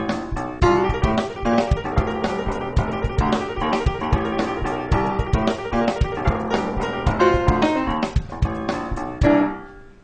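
A funky piano riff with rapid repeated-note tremolo over a walking bass line and tight, steady drums, played at full tempo and loud throughout.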